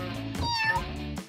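A cat gives one drawn-out, clear meow that rises and falls, close and loud with no other sounds around it.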